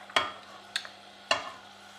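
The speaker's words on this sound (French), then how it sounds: "on voit que l'huile fait son travail" Homemade pommes dauphine deep-frying in a pot of hot oil, a quiet low bubbling hiss broken by three sharp crackling pops, no voices.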